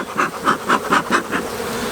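Honeybees buzz close up in an opened, well-established hive during an early spring inspection, the drone rising and falling in a rapid pulsing rhythm, loud and alone.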